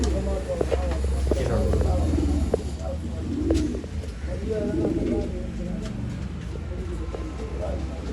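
Pigeons cooing at a pigeon sale in Bangalore, repeated low soft coos close by, mixed with people talking and light background bustle.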